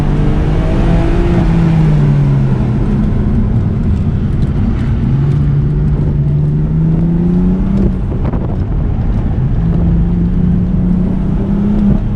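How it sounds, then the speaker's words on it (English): A BMW F80 M3 on a race track, engine droning loudly at the front with pitch rising and falling through gear changes and tire noise beneath, heard steadily from inside the cabin. "See, your tires are slipping."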